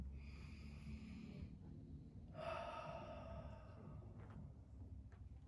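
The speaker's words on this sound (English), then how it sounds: "Take a deep breath to our belly, you can open your eyes while you exhale." One person takes a slow, deep breath in and then exhales audibly, close and soft, in a quiet guided-meditation setting, followed by a short pause and a faint second breath.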